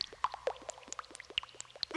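Tomato juice pours with a string of plipping drips and small liquid pops, close, irregular and quick, with no voices.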